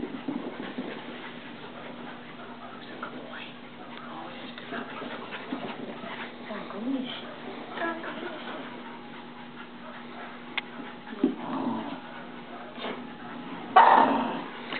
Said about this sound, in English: quit barking at them. They're not going to hurt you.